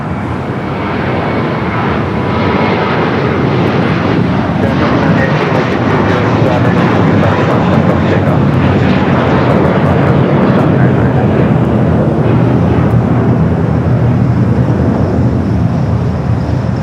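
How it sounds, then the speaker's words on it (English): Steady, loud jet engine roar from a Qantas Boeing 787 Dreamliner during pushback at Los Angeles International Airport, with a continuous broadband rumble and whine that holds level throughout. "Pushing back a Qantas Dreamliner"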